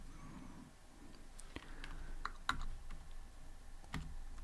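Python code is typed on a computer keyboard in a quiet room, with a handful of faint, sparse key clicks and taps spaced unevenly and no talking.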